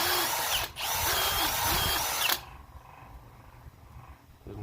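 A power drill spins a wire brush against the control arm bushing bores of a 2006 Dodge Magnum, a loud steady grinding whir that cuts off abruptly, leaving a quieter hum of shop background.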